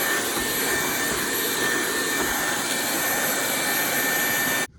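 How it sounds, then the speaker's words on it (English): Dyson vacuum cleaner running at full power nearby, a loud steady high-pitched whine and rush of air that holds constant for nearly five seconds before cutting off abruptly, with no talk, during seat work on a 2003 Honda Element. "Bust out the Dyson."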